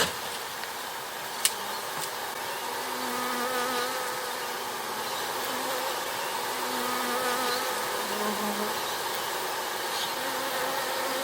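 A swarm of bees confined inside a box makes a dense, continuous buzzing hum, steady and moderately loud throughout, with a couple of faint clicks and no talking.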